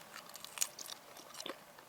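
Very thin-sliced watermelon chips, slightly moist and seeded, being bitten and chewed close up: a few soft, quiet crunches and chewing sounds over a hushed background, with no talking.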